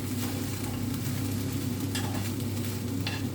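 Rice being stirred and warmed through in a pan, giving a steady close scraping and soft sizzle with a few sharper clinks of the utensil against the pan, no voices.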